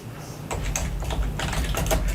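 Quick keystrokes clatter on a computer keyboard, a short burst of close, clear typing with no voices.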